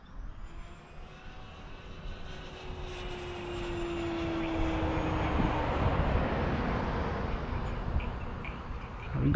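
A Durafly 51-inch Tundra RC model airplane with an electric motor flies overhead, its buzzing whine rising in pitch and loudness as it passes, steady and close, no speech.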